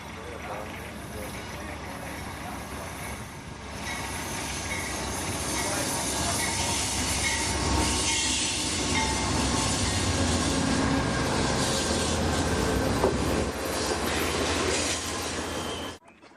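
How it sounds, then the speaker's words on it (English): Amtrak's Coast Starlight passenger train pulls out of the Klamath Falls station with a steady, loud rumble of rolling wheels and rail noise that swells after a few seconds and holds until an abrupt cutoff. "soon the Coast Starlight pulls out of the station."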